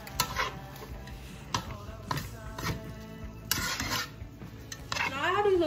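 Scrambled eggs are stirred into shrimp fried rice in a pan, with soft scraping and rubbing of a utensil against the pan and occasional light clinks, close up and fairly quiet.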